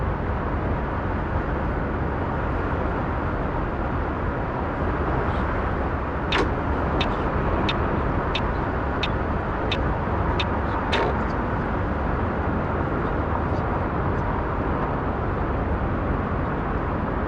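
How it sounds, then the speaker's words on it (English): Bus engine drone from the Fernbus bus simulator game, a steady loud rumble running throughout, with a brief series of about eight evenly spaced clicks partway through, likely an indicator, and no talk. "I've been driving my bus."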